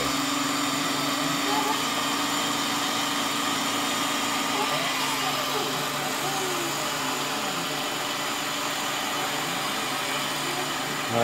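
A router machines a slingshot frame with a steady, continuous motor whine and a faint cutting hum, moderately loud and unbroken throughout, with no talking.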